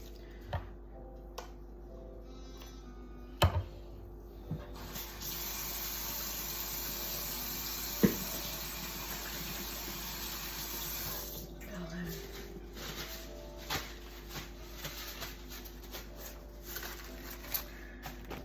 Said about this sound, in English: First, I'm gonna rinse off my meat.